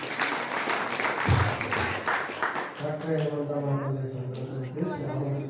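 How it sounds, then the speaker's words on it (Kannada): Loud applause from an audience at a religious discourse gathering, dense clapping for the first few seconds before fading under someone speaking over a sustained backdrop. "ಒಂದು ಜೋರಾದ ಚಪ್ಪಾಳೆಯನ್ನು"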